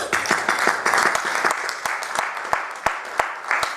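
A church congregation claps together in a steady wash of applause, with sharp individual claps standing out through the noise, fairly close and loud from start to finish.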